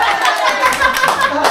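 A small group of people claps in a lively, uneven burst close by, mixed with chuckles and overlapping chatter.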